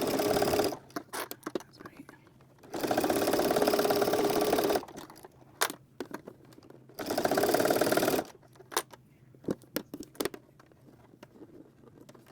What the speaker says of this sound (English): take it to the machine and then stitch again a 1/4 inch within the seam allowance